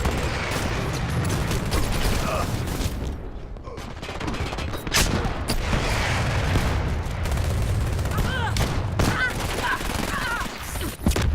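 Sustained artillery barrage and rapid gunfire from fire support in the shooter game Dirty Bomb, loud and dense throughout with repeated blasts and crackling shots, some faint voice chatter mixed in.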